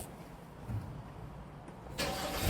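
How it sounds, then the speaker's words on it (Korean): A used car's engine is cold-started: a short quiet stretch, then the engine catches abruptly and settles into a loud, rough idle close by. "제가 한번 시동 걸어 보면서 이 차량이 어떤 상태인지 한번 봐드릴게요"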